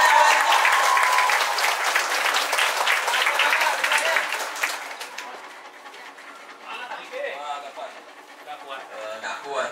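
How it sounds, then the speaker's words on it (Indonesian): Loud group applause at a one-day English and character camp held at a villa, dense clapping for about five seconds then fading into scattered claps and chatter, with voices talking over it. "Tepuk tangan untuk kita semua."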